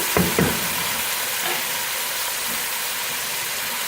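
Chicken pieces frying with onions and ginger garlic paste, a steady broad sizzle running throughout, with a couple of brief louder scrapes or clatters near the start.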